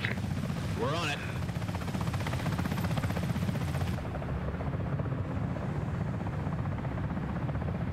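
A game helicopter in Comanche flies with a steady, close rotor and engine drone for the whole stretch, while a brief warbling tone sounds early and the high end drops away halfway through.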